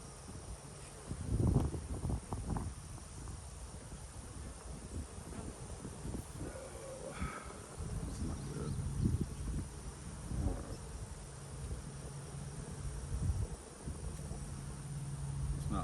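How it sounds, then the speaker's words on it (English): Honeybees in a nucleus hive buzz in a low, steady hum that swells briefly as a frame is shaken, with rustling and handling noise near the hive. "When you shake them with all the bees, they kind of like buzz at the same time."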